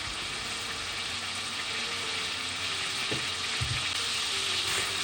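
Shallots sizzle in the pan that was just used to cook prawns, a steady loud hiss throughout with a couple of faint knocks near the end, no voices.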